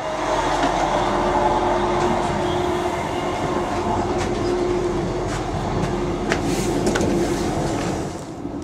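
Steady rumble and rattle inside a moving Northern passenger train between Carlisle and Leeds, continuous and fairly loud, with faint squeaks and clicks from the wheels and carriage, and no talking.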